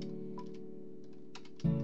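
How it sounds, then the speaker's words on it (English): Keys clack on a computer keyboard in a few quick, scattered taps, then a louder thump near the end, over a steady low hum. "Why would I be so loud on my keyboard?"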